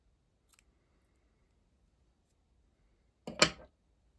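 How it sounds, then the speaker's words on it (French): A single snip of scissors cutting mustard-coloured yarn during crochet work on a tote bag, one sharp close cut after a faint earlier click and near silence. "Je vais changer de fil, donc je vais couper mon fil moutarde."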